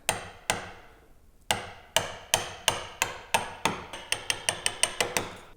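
A chisel set into a marking gauge line in wood is struck by a mallet, giving a steady series of sharp, close taps that start spaced and then come quicker and lighter toward the end.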